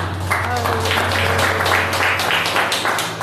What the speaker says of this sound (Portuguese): Você marca as palmas para Jesus nessa noite.